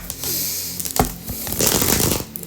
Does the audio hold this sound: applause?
no